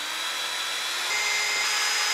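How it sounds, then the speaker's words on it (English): A power drill pre-drills mounting holes while installing an Aquor water hydrant with SharkBite Max fittings; a steady high whine runs close and loud, then shifts pitch slightly as the bit works into the material. "now I can pre-drill"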